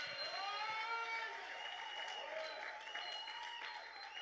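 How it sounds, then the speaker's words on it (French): A church congregation applauding and cheering at a morning worship service, dense sustained clapping mixed with whoops and high voices, fairly distant and fading slightly toward the end. "acclame puissamment le Saint-Esprit ce matin"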